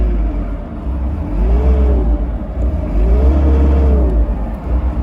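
Diesel engine of a Cat 305 mini excavator idling up, pitch rising and falling through two revs over a steady low rumble, close and loud with no talk.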